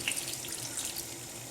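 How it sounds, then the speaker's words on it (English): A short, gentle splash of water poured into a pan, fairly quiet and close, over in about a second. "I'm just going to put a drop of water in"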